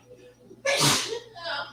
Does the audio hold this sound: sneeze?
yes